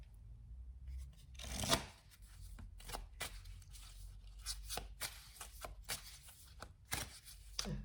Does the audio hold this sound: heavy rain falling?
no